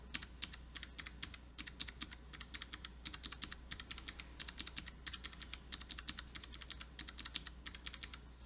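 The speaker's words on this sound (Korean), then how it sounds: "방향 키를 눌러서 블록을 내가 왔다 갔다 할 수 있어요" Computer keyboard keys, including arrow keys, are pressed while navigating blocks in a VSCode editor. The keystrokes come as a rapid, steady run of close, crisp clicks throughout, with no talk.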